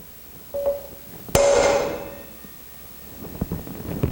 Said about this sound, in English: Lay your hammer right here, keep your fist level, give it a whack.